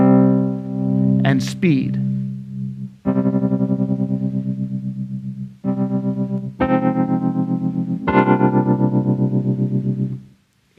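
A whirly organ-like tone on a Casio MZ-X arranger keyboard pulses in steady tremolo throbs, with several sustained held chords and a brief burst of sound near the start. A voice talks briefly.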